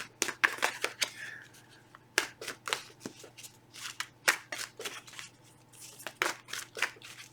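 Playing cards being shuffled repeatedly, quick crisp riffles and flutters in short bursts with brief pauses between them, close and fairly quiet over a low steady hum.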